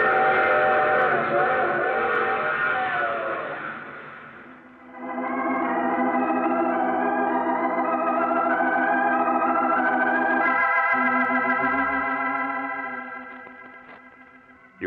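A train whistle effect in a radio drama of the strange and terrifying: long, sustained harmonic blasts with a chorus-like, processed tone. The blasts are loud and continuous, with a brief dip partway through and no voices.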